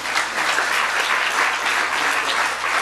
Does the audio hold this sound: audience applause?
yes